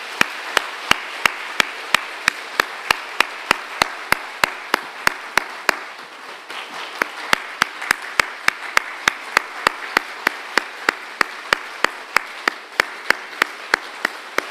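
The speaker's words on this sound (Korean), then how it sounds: "박수하겠습니다." A church congregation during a Sunday service applauds in unison, giving a slow, regular rhythm of sharp synchronized claps at about three per second. A short lull comes midway before the steady beat resumes and continues to the end.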